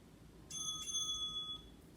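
A single bell struck once as a cue during a gentle spinal mobility stretching class, ringing clear and bright with a sustained tone that holds about a second before fading, alone over quiet room tone.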